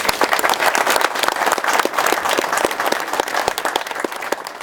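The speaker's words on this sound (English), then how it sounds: "So a round of applause to Keith." Applause from an audience at the 2013 Keller Ferry Sanpoil launch ceremony honoring a WashDOT worker, steady dense clapping for nearly five seconds, loud and close with no talk.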